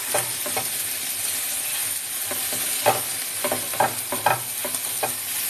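Tacos grilling in a pan, giving a continuous sizzle with frequent scraping and tapping of a utensil against the pan, irregular and close, and no voices over it.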